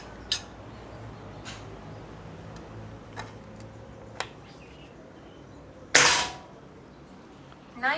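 A single sharp PCP air rifle shot cracks out close by, following a few faint clicks against a quiet background.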